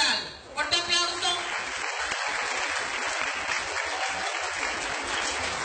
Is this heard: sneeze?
no